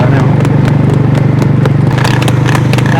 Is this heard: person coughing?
no